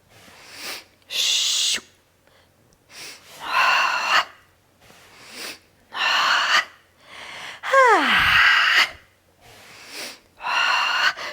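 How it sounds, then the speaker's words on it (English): Forceful rhythmic pumping breaths during an ab workout, about seven sharp bursts of air in steady succession, loud and close, with one squeaky vocal breath in the middle. "Keep pumping the breath."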